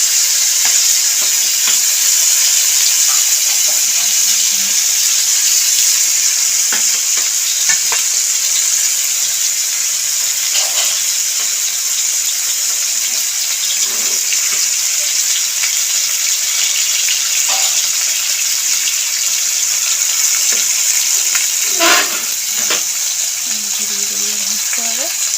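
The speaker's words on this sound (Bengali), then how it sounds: "তেল গরম হয়ে গেছে ফ্রাই প্যানে। এবার মশলা মাখা মাছগুলো দিয়ে দিল। এটা কিন্তু একদম অল্প তেলেই ভাজা হবে।" Masala-marinated fish frying in a little hot oil in a frying pan, a loud, steady sizzle that carries on throughout, with faint clinks and stirring sounds now and then.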